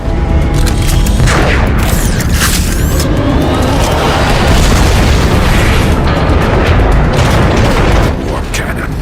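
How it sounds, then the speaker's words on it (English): Heavy cannon blasts from the Transformers: Fall of Cybertron video game, a dense, loud barrage of booming explosions rolling almost continuously for several seconds, with a voice speaking over the din. "More cannons"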